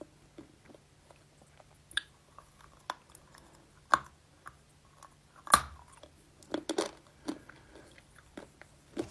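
Dry lumps of edible clay are bitten and chewed close to the mic, with irregular crisp crunches and softer chewing between them in a quiet room.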